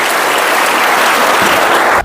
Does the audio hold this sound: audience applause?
yes